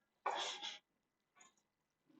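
A single sharp sneeze bursts out nearby during a croquet match at the Australian Open, followed by a faint softer breath or sniff and then quiet.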